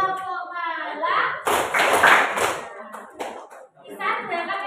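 In a classroom, a teacher leads pupils through the tepuk pagi clap chant. A burst of rhythmic group clapping sits between stretches of spoken instruction, with children's voices mixed in.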